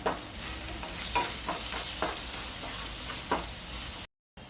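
Onions cook with a spoonful of salt in a pan as a spoon stirs in repeated scraping strokes over a soft sizzle, followed by a brief drop to silence near the end.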